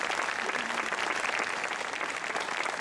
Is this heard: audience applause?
yes